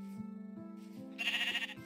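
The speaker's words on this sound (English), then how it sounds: "Oh, another sheep." A Minecraft sheep bleats in a wavering cry, with a brighter bleat near the end over a low, steady game hum and no talking.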